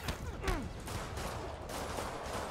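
Gunfire and a rocket launcher in Spider-Man PS4, a quick burst of sharp shots and a blast with a descending whine, close and loud over a busy background rumble.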